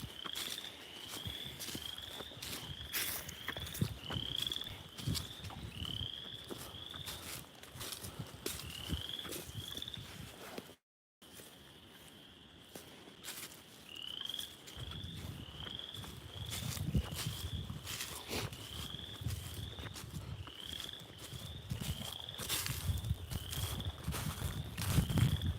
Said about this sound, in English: just being able to hear tree frogs at night.